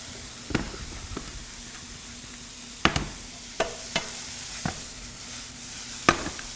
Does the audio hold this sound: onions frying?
yes